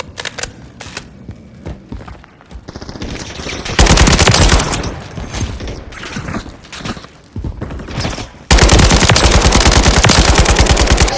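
Rapid automatic gunfire from an AK-107 rifle in the shooter game Call of Duty Modern Warfare III, loud dense bursts with brief pauses between them, then a sustained continuous volley at the end.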